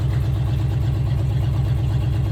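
A 1966 Jeep Gladiator with a 327 Vigilante V8, pulled from a junkyard, idles rough from an exhaust fault in a loud, steady, low rumble close by.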